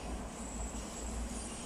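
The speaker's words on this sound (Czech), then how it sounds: "Právě mi tady jede vlak." A train rolls past nearby, a steady broadband rumble of rail wheels and carriages with some wheel squeal, continuous and fairly loud for the whole stretch.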